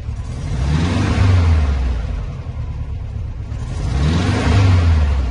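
A carbureted VW Beetle engine with new spark plugs revving twice, each rev swelling to a loud close roar and falling back to a steady idle rumble, no talk.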